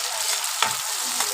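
Tomatoes frying in a pan, a steady close hiss of sizzling oil with brief louder crackles and stirring scrapes, no voices.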